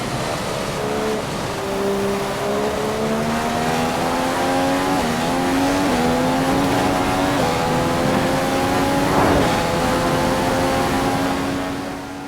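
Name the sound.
race car driving a lap at Hungary, from a racing game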